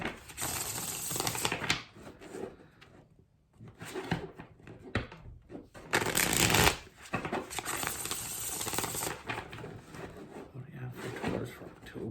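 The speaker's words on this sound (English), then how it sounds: "Get two more shuffles for Taurus" Tarot cards riffle and slap together in repeated shuffling bursts, brisk papery rustling close by, with a few pauses between rounds.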